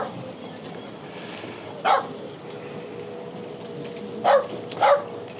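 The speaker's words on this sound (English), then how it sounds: "We got our neighbor, the dog here," A dog barks from nearby at a marina beside a Targa 37 motor boat, three short sharp barks spaced apart against a steady low background hum.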